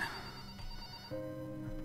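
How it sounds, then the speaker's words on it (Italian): A telephone rings in the Italian horror video game Follia - Dear Father, a faint, steady electronic tone lasting under two seconds against a quiet ambient background. "c'è il telefono che suona"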